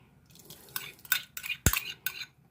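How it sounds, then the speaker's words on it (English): A spoon scrapes and clinks against a bowl while stirring a rice pudding mixture, making several quick taps and one sharp loud knock, close up with no talking. "Stir that in."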